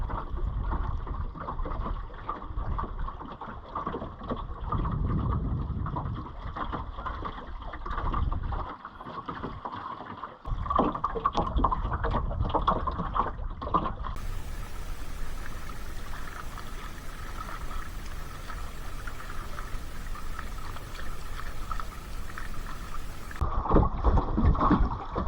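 Light breeze while sailing an Ilur cruising dinghy on open water: steady wind rush and buffeting over the microphone, with water lapping against the hull, continuous and fairly loud throughout.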